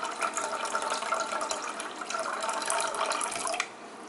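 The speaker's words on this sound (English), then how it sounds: "You want to fill it halfway through the pot," Water running from a tap into a cooking pot, a steady splashing pour that stops abruptly near the end, alone with no talk.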